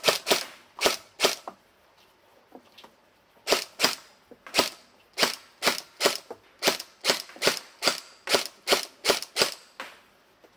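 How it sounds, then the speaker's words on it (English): SLR CQB M4 gel blaster firing single shots, a string of sharp, close snapping pops, some spaced apart and others in quick bursts, with no talk over them. "Alright, so let's give it a test. Shoot a couple of singles"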